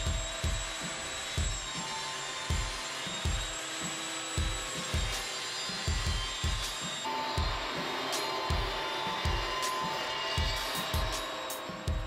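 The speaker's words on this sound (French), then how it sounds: "Je commence par la découpe des faces du meuble." Wooden panels for a coffee table are cut with a power tool whose steady whining motor runs throughout, punctuated by a regular series of low thumping pulses, close and fairly loud, with no talk.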